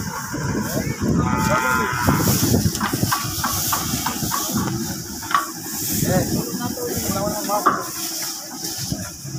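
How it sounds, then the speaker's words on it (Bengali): Cattle on a farm low and moo a few times amid shuffling and handling noise while someone talks over them nearby. "এই যে গরু উঠে গেল, সব গরু উঠে যাচ্ছে।"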